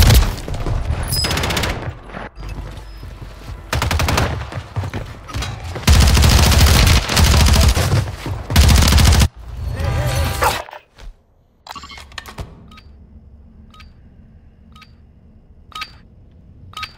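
Bursts of automatic gunfire crackle loudly through a Call of Duty Warzone firefight, dense volleys for the first ten seconds, then sparse isolated shots and faint beeps fading over a quieter stretch.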